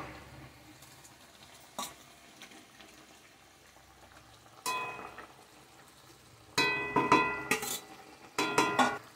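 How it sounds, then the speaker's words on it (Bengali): Curry gravy simmering in a pan as fried tomato fritters go in for a Bengali aubergine and mustard-paste dish: a quiet bubbling hiss broken by several sharp clanks and scrapes of a utensil against the pan. "যে ঝোলটা ফুটছে এটার মধ্যে দিয়ে দেবো"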